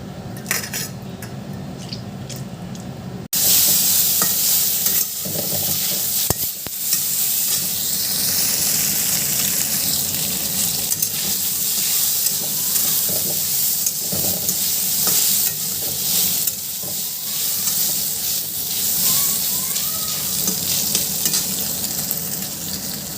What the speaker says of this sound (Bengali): এখন একটু সয়াবিন ভেজে দিই